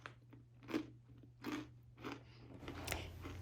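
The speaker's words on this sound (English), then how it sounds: "just check out that crunch" Bite-sized almond flour crackers are crunched close up, about five crisp bites and chews in a steady rhythm over a faint low hum, with no talking.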